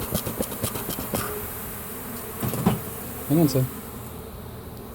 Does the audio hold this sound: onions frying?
no